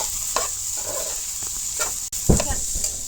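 A spoon stirs coconut and jaggery with ghee in a pan, making scraping strokes over a soft steady sizzle, with a few sharper knocks and one brief dropout near the middle.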